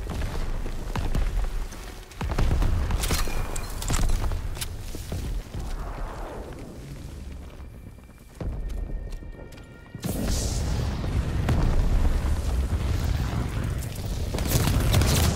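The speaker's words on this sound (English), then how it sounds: "Artillery's hitting the beach." Artillery shells pound a World War II D-Day beach in Call of Duty WW2, with heavy booms and rumbling blasts over continuous battle noise and a short lull midway.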